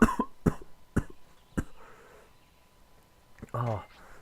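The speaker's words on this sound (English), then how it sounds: "I'm coughing up a storm on my end" A man coughs in a quick run of four sharp, close coughs, the last one trailing off, and then a voice speaks briefly afterward.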